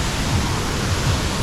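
A waterfall roars nearby as a loud, unbroken wash of falling water, deep and steady, with no voices over it.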